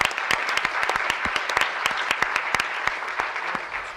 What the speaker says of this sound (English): ask that we give them a round of applause for their hard work and